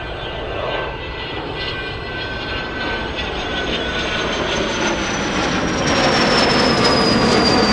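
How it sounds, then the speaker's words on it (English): A Learjet rolls down the airport runway on its takeoff run, a loud steady jet roar with a rising whine that builds gradually and stays close and continuous. "Let's go for the Learjet. I think we have one racing down the runway."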